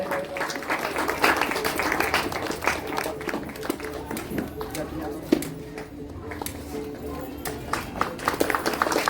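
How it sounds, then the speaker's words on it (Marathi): A crowd claps at a village Shiv Jayanti festival, the applause dense and steady with background voices and chatter mixed through it. "सर्वांनी एकदा जोरदार टाळ्या वाजवायच्या आहेत"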